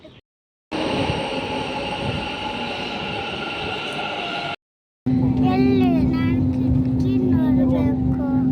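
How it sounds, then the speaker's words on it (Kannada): A Bangalore metro train arrives at Cubbon Park station with a loud, steady rolling rumble, then a brief drop. It resumes with a sustained tonal whine, wheel squeal and voices in the background. "ಫಸ್ಟ್ ಟೈಮ್ ಬ್ಯಾಂಗ್ಳೂರಲ್ಲಿ ಮೆಟ್ರೋ ಬರ್ತಾ ಇರೋದು"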